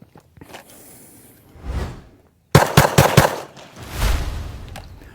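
Four rapid gunshots ring out back to back from a handgun during combative shooting practice, loud and close after a quieter shuffling lead-in, with a decaying rumble afterward.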